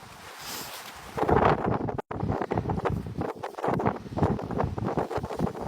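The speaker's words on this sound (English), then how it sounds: "We'll get a little bit of a rest from the wind here" Wind blows outdoors by the sea, gusting and buffeting the microphone as a steady roar with broad rushing bursts throughout, loud and close.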